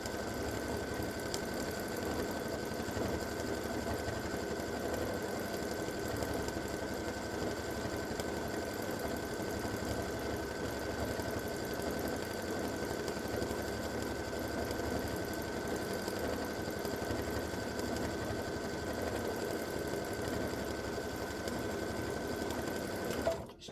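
A sewing machine stitching an edge-to-edge double loop quilting design, running at a constant fast, even whir with a steady mechanical hum for the whole stretch, alone without talking.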